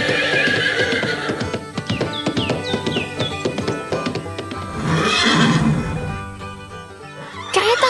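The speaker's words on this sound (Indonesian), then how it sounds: "Kereta kuda berlarian di bawah langit cerah" In an animated farm scene, a horse whinnies with a rising, wavering call while carriage hooves clip-clop along, followed by a second, louder neigh over light background sounds.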